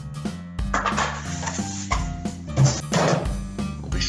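A spatula scrapes and stirs chai rice pudding in a pot, with repeated close, rhythmic drags and soft knocks against the pot over a few seconds; nobody talks.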